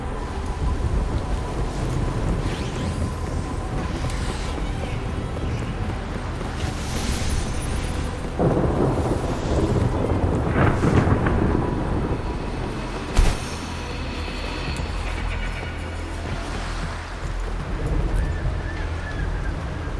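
A roaring storm at sea in the video game Wuthering Waves, steady wind and crashing surf around a sailing ship, with a sharp thunder-like crack in the middle and heavier gusts swelling partway through.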